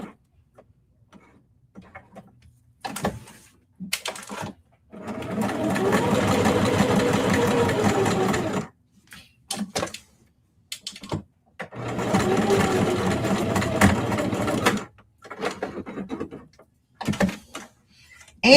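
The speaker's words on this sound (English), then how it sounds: "I'm just going to sew the label all the way down so it won't be flopping around in" A sewing machine stitches a label onto a denim tote bag in two sustained runs of rapid mechanical whirring, separated by pauses with small clicks and handling noises, close and alone.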